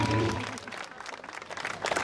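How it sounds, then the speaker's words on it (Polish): An audience applauds at a celebrity equestrian championship in Zakrzów, with steady dense clapping throughout and a voice briefly audible near the start. "Brawa dla Haneczki"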